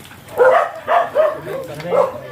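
An aggressive Belgian dog lets out four or five sharp, close barks in an uneven rhythm, with a voice talking nearby.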